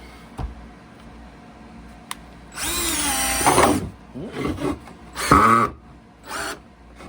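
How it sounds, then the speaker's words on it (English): A DeWalt DCD710 cordless drill whirs in several short bursts while driving screws into wood, each rising and falling in pitch, with pauses between; loud and close, no talking. "let's try to drive some screws with this thing"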